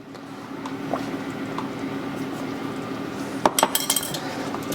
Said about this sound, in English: give this a stir, mix it all together